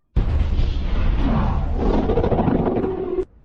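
A loud, sustained explosive roar from the film Edge of Tomorrow bursts in suddenly, rumbling for about three seconds before cutting off abruptly.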